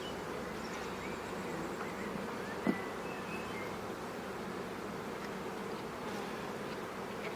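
Honey bees buzz steadily around a hive in spring, a dense continuous drone of many insects at moderate distance, with one brief sharp knock partway through and no voices.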